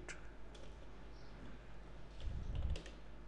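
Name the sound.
typing a reply on a computer keyboard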